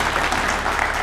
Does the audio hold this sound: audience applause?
yes